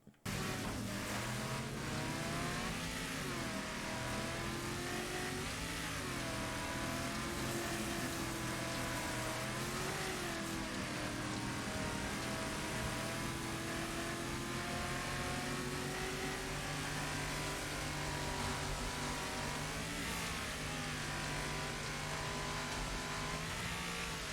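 A race car engine in the Wreckfest video game roars continuously, rising and falling in pitch as it revs and downshifts through a corner, loud and close with no talking.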